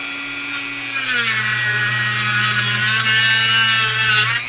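Dremel rotary tool cutting, a loud close high-pitched whine with a steady motor tone that shifts slightly in pitch as it bites into the material.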